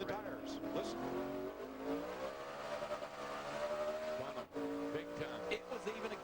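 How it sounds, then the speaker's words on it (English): A 2008 NASCAR Sprint Cup race car at Las Vegas spinning its tires on a restart, with a high, sustained engine whine against the rev limiter and engine tones layered beneath commentators talking throughout. "That's when it was spinning the tires"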